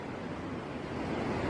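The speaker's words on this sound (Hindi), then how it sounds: "ये नीचे मधुगंगा, इसका शोर सुनिए, बहुत ही चंचल, बहुत ही मस्त" Madhuganga, a lively Himalayan mountain river, rushes below a trek path near Gondhar village on the Madmaheshwar trek, heard as a steady, dense roar of flowing water with no break.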